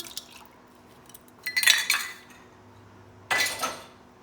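Olive oil, balsamic vinegar and garlic being combined in a bowl, heard as two separate bursts of clinking utensil-on-dish contact with light liquid sounds, close and fairly quiet with a hush between them.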